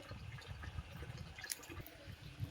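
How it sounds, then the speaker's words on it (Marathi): Water pours from a pipe fed by a motor from a distant well into a small tank, a soft continuous trickle and splash with faint drips throughout. "ही बघा, आता पाण्याने आम्ही भरू राहिलो."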